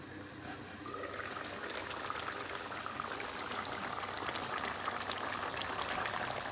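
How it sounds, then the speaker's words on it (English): Egg curry sauce bubbles and reduces over a high gas flame, a soft, continuous simmering burble with faint popping bubbles throughout. "Gas is still on high. And we want the sauce to reduce a little bit more."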